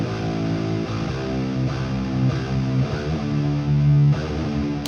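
Heavy distorted electric guitar plays rhythmic chugging chords alone without its octave-down doubling track, loud and steady with no voices.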